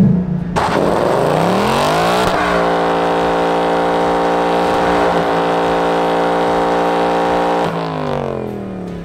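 2018 Ford Mustang GT held on line lock for a burnout, the V8 revving up hard and holding a loud steady high-rpm roar with tire noise before winding back down, close by and without talk.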